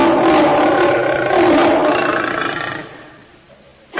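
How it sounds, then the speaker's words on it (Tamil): A tiger in a Tamil animated cartoon gives one long, loud, rumbling roar that slowly fades away, followed by a brief sharp noise at the very end. "கோவிந்த், இது வரைக்கும் புலிக்கிட்ட சிக்கின மாடுகளை யாராலையும் காப்பாற்ற முடிஞ்சதில்லை"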